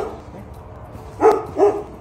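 A dog gives two short barks close by, spaced about half a second apart, over low background noise in a garden where it had broken through a board.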